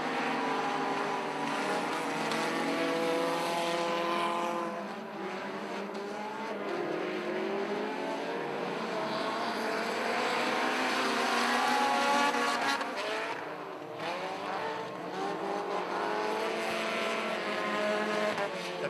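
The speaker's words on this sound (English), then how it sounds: "We got a drag race heading down the backstretch." Pro 4 race cars roaring around an oval track at night, a loud, sustained multi-engine drone that swells and dips as the pack passes, with a steady rising and falling engine pitch.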